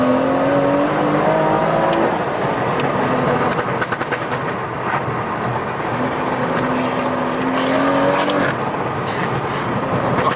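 A 450bhp BMW M240i accelerating hard, its engine note rising loud and close in long sweeping pulls that break for gear changes, with a steady roar of road and wind beneath.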